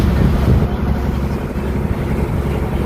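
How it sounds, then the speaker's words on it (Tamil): A motorboat heading out on the sea at Rameswaram, its low engine drone steady and close, heavily buffeted by wind rushing across the microphone. "இப்போ போட்டும் ஸ்டார்ட் பண்ணிட்டாங்க."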